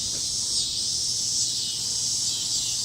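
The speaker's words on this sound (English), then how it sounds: "So this is the cicada sound in my backyard." Cicadas sing in a backyard, a dense, steady high-pitched buzzing drone that holds loud and unbroken throughout, with no voices over it.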